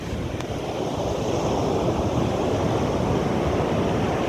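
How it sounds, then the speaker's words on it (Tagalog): Sea waves at high tide wash in with a steady, broad roar of surf, loud and close, mixed with wind buffeting the microphone and no voices. "Ang ganda po ng dagat po."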